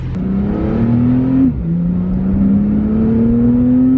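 A Porsche 911 Carrera T engine with PDK gearbox in sport mode climbs in pitch under acceleration with induction noise, drops briefly at a gear change, then pulls up again, loud and close.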